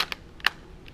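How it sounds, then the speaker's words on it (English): A few quick plastic key taps on a calculator as numbers are entered, two short clusters of clicks separated by a pause, close and fairly quiet with no talking. "let's type that into the thing there"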